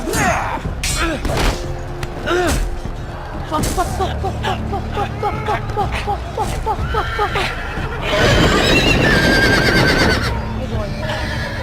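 Horses neigh and whinny repeatedly with galloping hoofbeats and thuds in a Game of Thrones video game scene, loud and busy, with voices talking over the action.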